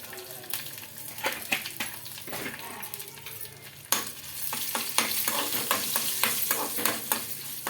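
Dry red chillies, green chillies, curry leaves and turmeric fry in hot oil in a pan, sizzling steadily while a spoon scrapes and stirs in quick, irregular strokes, growing louder midway.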